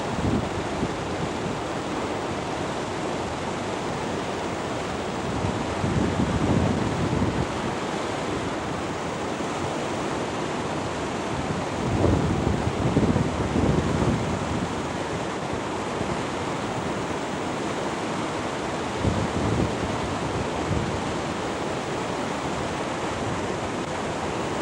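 The Bhagirathi river rushes through a rocky gorge at Gangotri, a steady, dense roar of whitewater with occasional louder surges, continuous and close.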